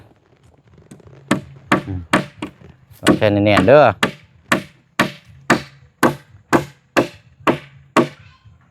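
A hammer drives nails into wood in a steady series of sharp, close knocks about twice a second, briefly interrupted by a person speaking.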